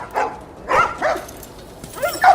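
Dogs in The Last of Us Part 1 give a few short barks and yips, spaced out and fairly close, over a quiet background.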